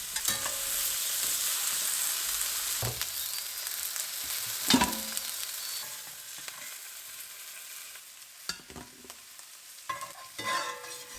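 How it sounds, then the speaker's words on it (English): Quartered onions, two large ones, sautéing in rendered lamb fat: a bright hiss that gradually fades, broken by occasional scraping and clatter from the utensil against the pan. "sauteed quartered onions, 2 big onions, letting them absorb the rich flavors left from the lamb"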